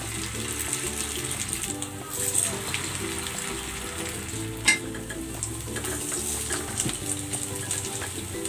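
Corned beef fries in cooking oil in a pan, with a loud, continuous sizzle and bursts of stirring and scraping, plus one sharp clack midway, and no talk.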